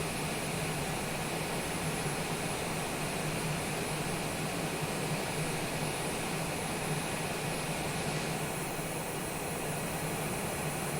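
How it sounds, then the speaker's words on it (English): A jet airliner in Microsoft Flight Simulator, heard as a steady, fairly quiet engine drone that holds evenly throughout with no talking. "Look at that plane."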